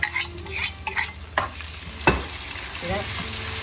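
Garlic and chili sizzle in a hot pan while being stirred for a Fiji-style spicy prawn curry, a steady close frying hiss broken by several sharp scraping stir strokes.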